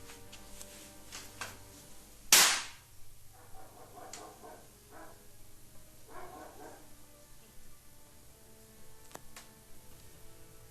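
A single sharp, loud gunshot cracks close by, fired from 20 centimetres away, followed by faint echoes and a few dog barks in the quiet background.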